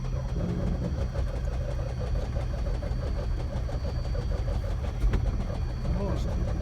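The propeller engine of a 1955 Beechcraft Bonanza F35 rumbles loudly and steadily at a low idle, a dense close drone during a ground run-up, with people talking over it.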